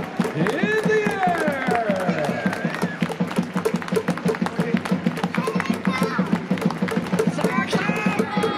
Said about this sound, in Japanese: イーグルスファンの皆さんももしよかったら一緒に手拍子お願いします